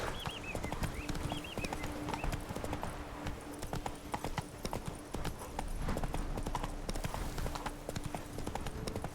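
Hooves beat in a rapid, steady clip-clop as a horse gallops in The Witcher 3, loud and close, with a brief whinny near the start and no talk.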